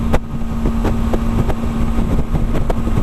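BMW G310 GS motorcycle engine revving near 7000 rpm, a loud steady resonant drone with wind buffeting the microphone and faint periodic ticks throughout.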